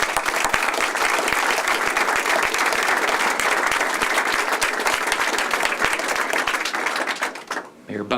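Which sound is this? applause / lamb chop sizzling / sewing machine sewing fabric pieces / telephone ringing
applause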